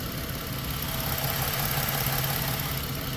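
A car engine idles steadily with a faint rhythmic knock and a slight shift in its idle, heard alone at moderate level for a few seconds.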